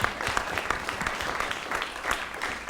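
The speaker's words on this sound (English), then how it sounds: "We gotta clap it up for him." Enthusiastic audience clapping at a live show in LA, a close, steady wash of many hands with a few sharper bursts standing out.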